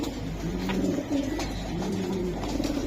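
Racing pigeons coo in a low, steady, throaty murmur that runs throughout, close by and fairly constant with slight swells in loudness.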